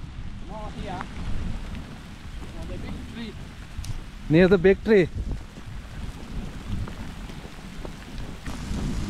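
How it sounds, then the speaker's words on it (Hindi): Heavy rain hisses steadily with low rumbling thunder underneath, at night near Mount Suswa volcano in Kenya, while a few people talk briefly over the downpour. "बारिश आ गई बहुत तेज."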